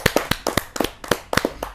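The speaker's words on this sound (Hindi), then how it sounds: "जरा जोरदार तालियों के साथ हम उनका स्वागत करें" Audience hand claps welcoming a poet at a Hindi kavi sammelan: a brief run of separate, fairly sharp claps in an uneven rhythm, close by and with no voices.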